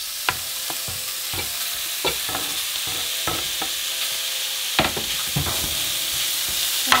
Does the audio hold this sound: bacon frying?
yes